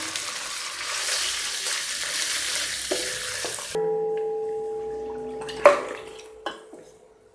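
Ginger garlic paste sizzles loudly in hot ghee with browned onions for Mughlai mutton biryani for a few seconds, then the frying drops away, leaving a low hum and a couple of utensil clinks.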